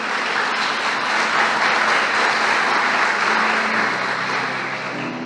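A church congregation applauds after a sermon reading, a dense, sustained clapping that fills the room steadily for several seconds before easing slightly.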